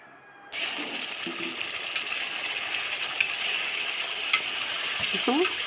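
Masala being stirred in hot oil in a wok while cooking small patey fish, a steady sizzle of frying with scraping stirring strokes, close and continuous, with a short quiet lead-in before the frying starts.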